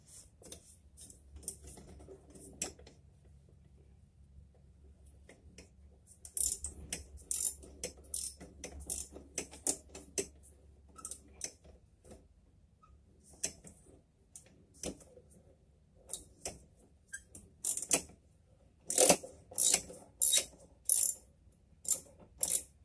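A ratchet wrench being turned and tightened while fitting parts to a homemade three-wheeler, giving bursts of sharp clicking in quick runs that grow louder and more rapid toward the end, close by, with no talk.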